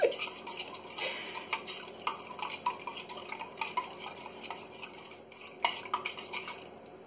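A knife stirs a liquid mixture in a bowl in place of a whisk, making rapid clinks and scrapes against the sides in an uneven rhythm. The sound is close and fairly quiet, with no talk.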